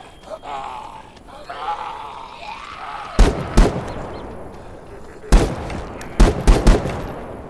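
Sharp gunshots from the video game The Day Before crack out in bursts: a pair near the middle, then a rapid cluster of three or four at the end, over faint game ambience.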